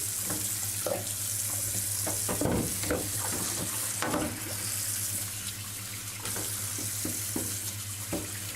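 Carom billiard balls rinsed under running tap water in a sink, a steady close hiss of flowing water with intermittent splashes and clacks as the balls are handled and turned.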